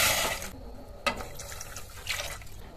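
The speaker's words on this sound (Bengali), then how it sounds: "2 কাপ জল দেবো।" Water splashes and trickles into a pot while sugar syrup is made on a kitchen stove, with a clear splash and gurgling drips, nearby and without talk.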